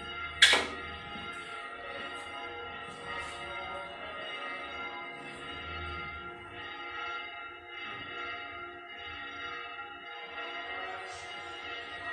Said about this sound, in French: Écoutons le son des cloches d'espérance.